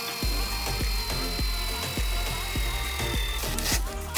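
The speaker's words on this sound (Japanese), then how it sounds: "まずは両面丸ノコを通す方法を試してみました。" A circular saw cuts wall insulation board during a DIY home build, its motor whining in rapid repeated bursts as the blade spins up and bites, close and fairly loud.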